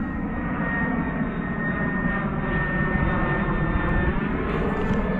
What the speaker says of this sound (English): That's an airplane up there.